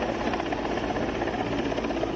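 A helicopter circles over flooded Patna, dropping food packets to stranded people; its steady rotor drone fills the whole stretch, loud and continuous with a fluttering beat and no voices.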